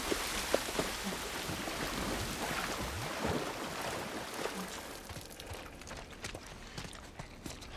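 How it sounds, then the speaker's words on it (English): Rain falls steadily in The Last of Us Part I game, a faint continuous hiss of drops with occasional soft footsteps and movement sounds mixed in. "at least we're out of the rain"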